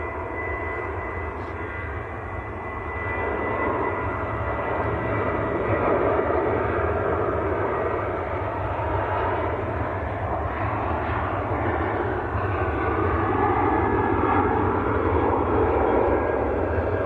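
A TUI airliner takes off at Manchester Airport, its jet engines a loud, sustained roar that swells after the first few seconds and holds steady throughout, with no voices over it.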